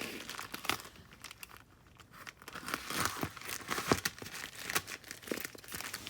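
A plastic package holding silk bedding is cut and opened up close, giving quiet crinkling, crackling and tearing plastic sounds in irregular bursts, with a brief lull partway through.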